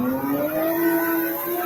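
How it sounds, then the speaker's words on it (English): A Land Rover fitted with a BMW M3 E36 engine takes a corner, its engine note loud and close, a sustained tone climbing steadily in pitch as it pulls through the bend. "a Land Rover with a BMW M3 E36 engine. What? Look at this guy taking the corner."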